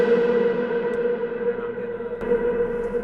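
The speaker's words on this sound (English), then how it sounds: "Basically, I put a huge reverb on it" Sustained vocal track drenched in a huge reverb effect during a DJ remix lesson, a dense, washing tail of smeared tone that holds steadily without a break, with no clear words.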